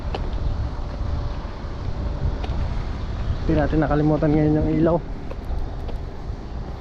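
Steady wind buffets the microphone with low rumbling gusts under overcast skies at a fishing spot, while someone speaks briefly in the middle.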